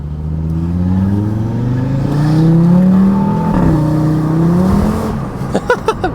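Audi RS3 spinning its wheels on gravel with traction control switched off, its engine revving hard in rising and falling sweeps, loud and close, ending with a few sharp crackles.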